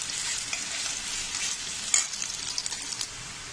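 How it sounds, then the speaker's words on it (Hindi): Onion frying in two spoons of hot oil in a kadhai gives a soft, continuous sizzle with light stirring clinks, fairly quiet and close. "मैंने कढ़ाई में दो चम्मच तेल डाल के गर्म कर लिया है। अब इसमें मैं कांदा फ्राई करूँगी।"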